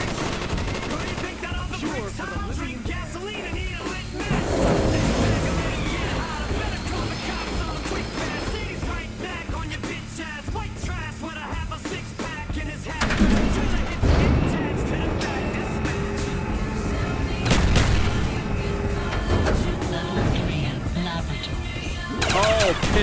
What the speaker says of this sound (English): 700 rounds, 2 minutes of continuous fire.